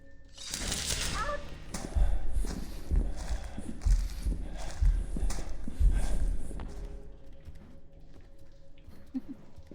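Horse hooves galloping in a fantasy video game, a run of heavy rhythmic thuds at mid distance over several seconds, with players' voices and game sounds around it.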